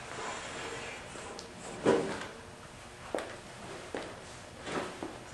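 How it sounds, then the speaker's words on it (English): The casing of a pleated air cleaner slides out of a home furnace: a sharp knock, then scattered clunks and short scraping rattles of sheet metal, close and moderately loud over a quiet room. "Pull the casing out."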